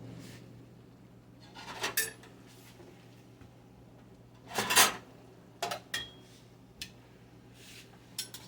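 A plate and a big metal spoon are handled in a home kitchen while plating an Italian sausage supper, with scattered clinks and clatters, a few sharper knocks near the start and middle, under a steady low hum.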